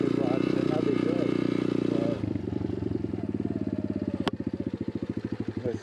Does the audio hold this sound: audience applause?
no